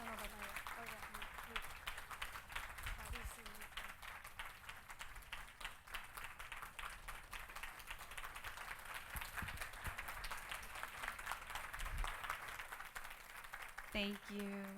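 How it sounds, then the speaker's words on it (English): A crowd claps steadily in sustained applause, loud and dense, with a voice briefly audible at the start and again near the end. "So let's give them another round of applause."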